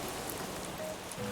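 Rain in the Animal Crossing video game, a soft continuous patter of drops on surfaces, steady and fairly quiet with no voices.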